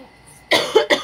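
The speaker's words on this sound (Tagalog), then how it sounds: "Sorry po, inuubo." A person gives two sharp, close coughs in quick succession, each a short loud burst after a quiet lead-in, with no talking.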